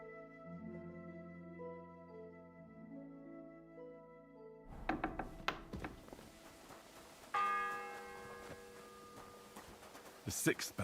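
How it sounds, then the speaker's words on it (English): Church bell tolling in the medieval video game Kingdom Come: Deliverance II. Layered sustained tones come first, then a ringing strike with long humming overtones rises amid clatter and game noise, under faint background voices. "The sixth bell. Half the time is up."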